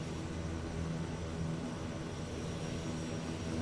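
Aircraft propeller engine idling at 1200 RPM in a flight simulator, a steady loud drone with constant harmonic hum and no variation, heard alone.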